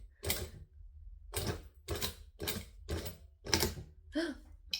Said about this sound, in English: we're going to sew slowly next to the hardware